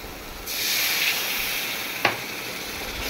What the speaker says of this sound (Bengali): তো সামান্য পরিমাণ জল অ্যাড করে আমি আবারও ভালো করে নেড়ে চেড়ে নিচ্ছি